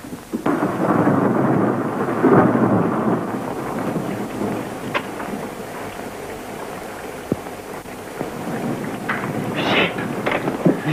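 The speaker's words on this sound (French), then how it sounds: "le tonnerre vient de me réveiller" A nighttime thunderstorm in a 1944 French film: heavy rumbling thunder rolls in loud and close, then fades into steady rain with scattered sharp cracks and drips.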